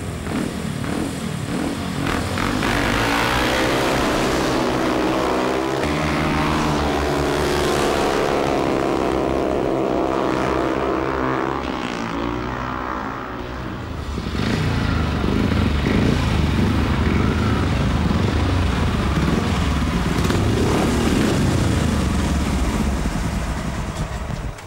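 Tony Briggs rides a speedway motorcycle at Hackney Stadium in London. The engine is loud and raspy, its pitch rising and falling as it revs, swelling nearer and then easing before roaring again, with no talk.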